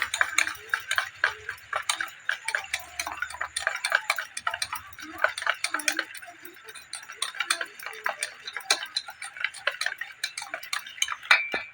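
A spoon mixing mango, yogurt and oil in a bowl for a mango cake batter, giving a quick run of close clinking ticks against the bowl without pause.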